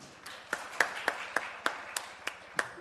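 Premature clapping from a school governing board meeting audience, about nine sharp, separate claps in a slow, even rhythm, moderately faint and heard alone.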